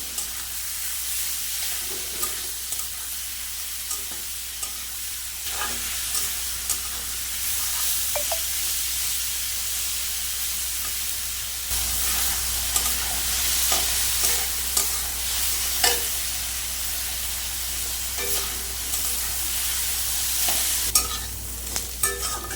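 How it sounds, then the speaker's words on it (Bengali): Pointed gourd pieces frying in a pan with salt and turmeric, a constant close sizzle with repeated scraping stirs and occasional clinks throughout. "পটলটাকে আমি ভালো করে ভেজে নেব।"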